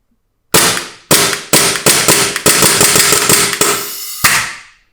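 An SSP18 airsoft pistol being dry fired, seven or eight sharp, loud, close mechanical snaps in quick irregular succession, each ringing briefly, with no talk.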